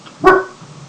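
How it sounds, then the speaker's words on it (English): A single sharp bark from a dog indoors, close and fairly loud, fading quickly into quiet room tone. "Sorry about the dog."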